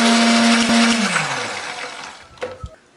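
An electric blender grinds candlenuts, garlic, shallots and turmeric with a little water. The loud, close motor whirs steadily, then winds down to a stop and ends with a couple of clunks of the jar.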